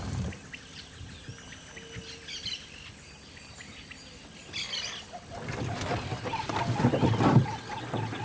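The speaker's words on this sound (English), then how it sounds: "Listen, that's what I love about the tropics. This wonderful soundtrack. It's mainly birds." Tropical birds calling in the Pantanal wetlands, a mix of scattered chirps and calls over a steady insect drone, growing busier and louder toward the end with no talking.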